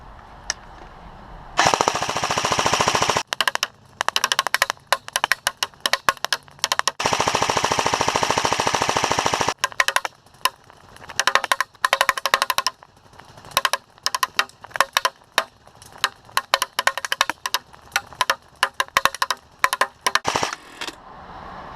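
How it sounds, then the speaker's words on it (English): An A&K M249 Paratrooper airsoft gun fires long, loud, close bursts and shorter volleys of rapid mechanical full-auto shots, with brief pauses between strings. "Let's see what this can do."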